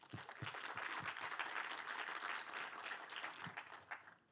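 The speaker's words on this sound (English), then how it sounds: "I think that deserves a round of applause." A keynote audience at a tech festival claps in a steady broadband wash with scattered sharper hand claps, sustained for a few seconds at moderate distance.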